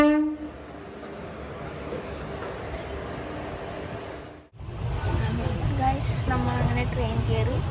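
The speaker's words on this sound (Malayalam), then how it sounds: "നമ്മളെ ട്രെയിൻ എത്തി ഗായ്സ്" A train pulling into a station, with a broad rumble of rail noise that steps up louder partway through as the train draws near.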